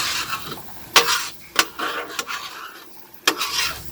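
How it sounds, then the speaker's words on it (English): A metal spatula scrapes scrambled eggs across a 17-inch Blackstone griddle, giving several sharp scraping strokes over soft sizzling, close and fairly loud, with no speech. "So as you put them on, you just keep scraping them up."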